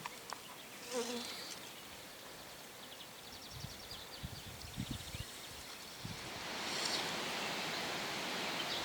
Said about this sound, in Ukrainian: Вся заплава в квітах живокосту, на яких працюють бджоли та гудуть жмелі.